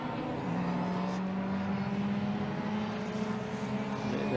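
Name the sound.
Toyota Celica racing car passing at Silverstone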